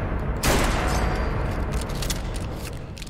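A Benelli M2 shotgun blasts in Fallout 4 during third-person shooting, one loud close boom near the start followed by a rumbling tail and a few lighter clicks and impacts.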